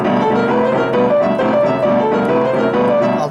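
Piano left-hand boogie-woogie pattern, a rolling repeated bass figure played steadily and loud at close range, alone without talking.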